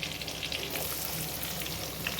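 Onion goes into hot oil with garlic and green chilli for chicken chilli, making a soft, even sizzle. The frying holds steady and low in level throughout, with no speech.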